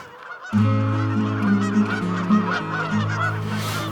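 A large flock of Canada geese honks loudly and continuously at night, a dense overlapping chorus of calls that bursts in suddenly after a brief quiet start.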